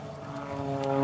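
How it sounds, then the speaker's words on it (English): Engine of a full-scale MXS radio-controlled aerobatic plane in flight during a national championship freestyle routine, a steady droning propeller hum with sustained harmonic tones that swells gradually louder across the short moment. "Full-scale RC plane."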